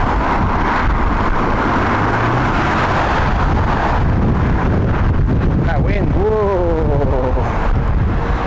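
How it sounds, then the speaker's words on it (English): Strong crosswind buffets the microphone at Heathrow Airport, a loud rumbling gusty roar that surges and drops, with a short warbling tonal squeal near the end and no clear speech. "So we have got some strong crosswinds today."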